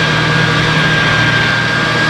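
A tractor engine drones continuously at close range, a constant mechanical hum with no change in pitch, at a paragliding site in Mieussy, France.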